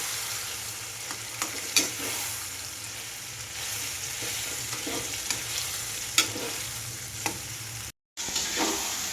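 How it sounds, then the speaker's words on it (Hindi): Eggplant and tomato stirred in a hot cooking pan, a steady close sizzle with scraping spoon strokes at intervals and a brief break near the end. "अब बैंगन और टमाटर को अच्छे से मिक्स कर लेंगे।"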